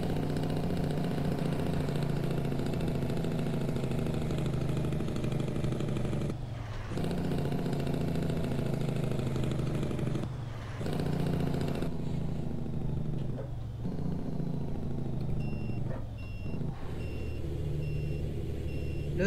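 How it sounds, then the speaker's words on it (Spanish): Kenworth T908 double-trailer tanker truck carrying Mobil fuel, slowing on its engine brake with a steady, loud low rumble broken by a few brief dips, recorded close. "Lo detuvimos a punta de freno motor."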